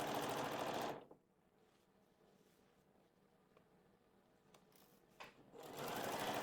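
A sewing machine stitches a formal dress seam in two loud, close bursts of fast whirring at the start and end, with a quiet pause between.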